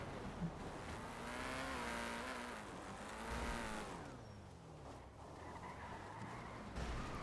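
A car in a gang-war video game revs and accelerates with a rising and falling engine whine and a touch of tire squeal, fairly faint and continuous throughout.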